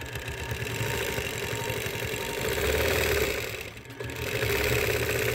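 Sewing machine quilting along a ruler toward the center of a quilt, a steady close mechanical whir running continuously with a brief dip near the end.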